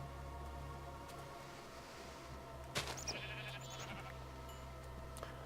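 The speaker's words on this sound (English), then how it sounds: "Sheep." Sheep in a Minecraft-style crafting video game bleat once or twice, brief and moderately loud over a steady low hum and faint static.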